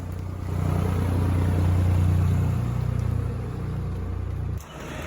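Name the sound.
tractor engine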